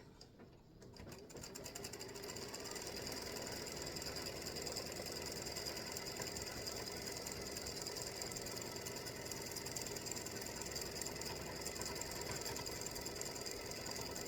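Embroidery machine running steadily as it satin-stitches the edge of free-standing lace earrings, a continuous close mechanical whir with rapid needle rattle that holds at an even level throughout, with no talk.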